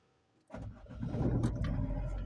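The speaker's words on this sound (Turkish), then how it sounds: "araba çalıştı" A car engine cranks and catches after a moment of quiet, then settles into a rough, rumbling idle close by.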